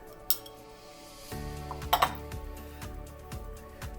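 Tomatoes, onions, lettuce and mayonnaise are mixed in a bowl for an Easter bunny tea, with a metal spoon clinking and scraping against the bowl in an uneven series of close knocks.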